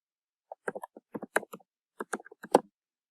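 Short bursts of crisp, close keystrokes on a computer keyboard, typing a few quick words with small pauses in between, then a final click in an otherwise quiet room.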